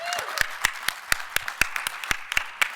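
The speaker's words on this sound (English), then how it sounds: "Can we give them a round of applause?" Clapping from a conference crowd acknowledging volunteers at a ceramics gathering, heard as a run of sharp, fairly regular claps with a voice faintly underneath.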